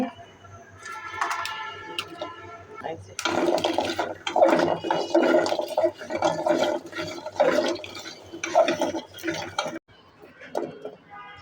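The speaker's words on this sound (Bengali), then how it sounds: "কাঁঠালের বিচি ভাজতেছি" Jackfruit seeds frying in a pan at night give off a steady watery sizzle and crackle, with louder bursts in the middle stretch, while a voice talks over it.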